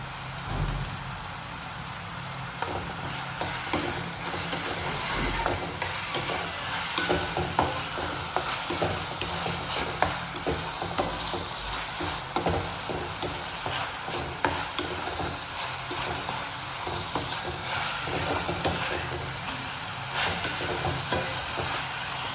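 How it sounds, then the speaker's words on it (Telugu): Green chilies and curry leaves crackle and sizzle steadily in hot oil in a pan, with a spatula scraping and stirring through them in repeated strokes for the whole stretch, close and continuous. "పచ్చిమిరపకాయలు యాడ్ చేద్దాం. కరివేపాకు,"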